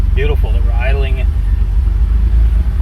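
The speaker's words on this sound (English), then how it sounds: "Obviously it's still hunting a little bit for idle, but it doesn't sound like it's missing terribly" A Mitsubishi 3000GT VR-4 idles with a low, steady rumble that hunts slightly, while a person talks briefly over it near the start.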